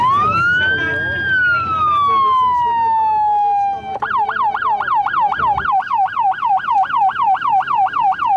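A Czech ambulance siren wails in a long falling tone, then switches to a rapid repeating yelp, loud and close over traffic noise.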